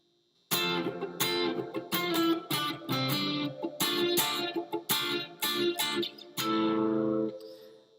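Electric guitar playing a riff in octaves that descends to the 2 chord, a run of bright, sustained, slightly driven notes struck in quick succession and ending on a longer held chord, no talking.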